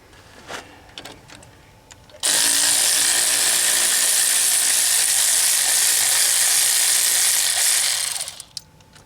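A power tool with a 5/8 socket removes the axle hub bolts on a 1977 Ford F250 full-floating axle, giving a loud, continuous rattling whir for about six seconds, preceded and followed by light clinks.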